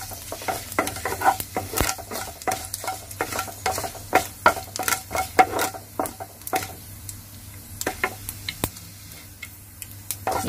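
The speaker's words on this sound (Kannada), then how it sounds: "ನೋಡಿ ಇವಾಗ ಸಾಸಿವೆ ಸಿಡಿತಾ ಇದೆ" Mustard seeds splutter and pop in hot oil alongside curry leaves and dried red chillies, a dense run of sharp crackles and ticks over a soft sizzle, close and steady throughout with no talk.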